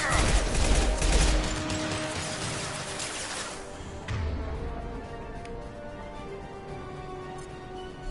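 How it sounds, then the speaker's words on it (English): Impact-shot gunfire from Mass Effect 2 cracks out in a dense, loud burst for the first few seconds, then fades into a lingering rumble with one more muffled blast partway through. "Firing an impact shot!"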